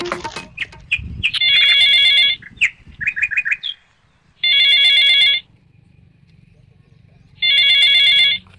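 A telephone rings in three long electronic bursts spaced a few seconds apart, loud and close, with brief talk and chirpy bird-like sounds just before the first ring.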